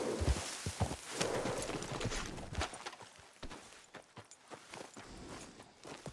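Horse hooves clip-clop at a walking pace in the video game Red Dead Redemption 2, a run of fairly quiet, irregular hoof strikes with a soft ambient bed.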